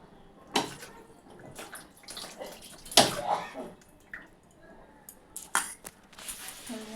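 Running water splashes in uneven bursts as a spoon is rinsed, with intermittent gushes, small clinks and drips, fairly close and moderately quiet, broken by short pauses.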